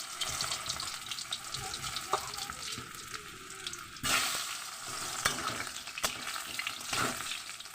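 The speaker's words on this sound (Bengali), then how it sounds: "আলুটা আমি একটু ভেজে নেব" New potatoes frying in a pan, giving a steady, fairly loud broadband sizzle with scattered scraping taps from stirring, while a brief louder burst of sizzling comes in partway through.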